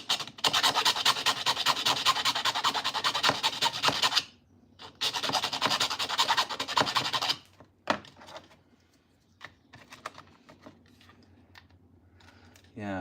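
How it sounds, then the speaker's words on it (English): Hand filing on a proton pack prop part in a workshop: two long bursts of rapid rasping strokes, then quieter scattered scrapes and handling noises. "let me try a bit of filing here"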